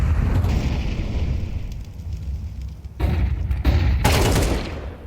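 AK rifle shots ring out in Counter-Strike 2, loud bursts over a constant rumble of background noise, with two sharp volleys near the end standing out from the din.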